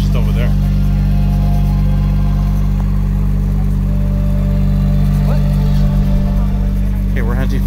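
Steady, loud engine drone and road rumble from inside a moving car driving through bear country, continuous throughout, with brief faint voices and chatter from passengers over it.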